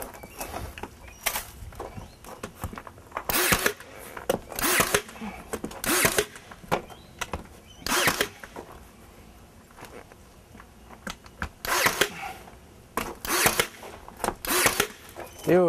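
A Ryobi power tool gun fires in short, sharp bursts while a window header is installed, repeated roughly every second or two at close range, with quieter handling sounds between shots.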